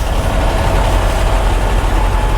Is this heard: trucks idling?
yes